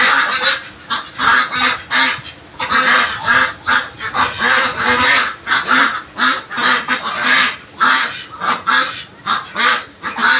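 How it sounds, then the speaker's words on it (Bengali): A flock of white domestic ducks quacks nonstop, close by and loud, in overlapping bursts of harsh honking calls with no real pauses. "এই যে আমি হাঁসগুলো দেখাই দিলাম।"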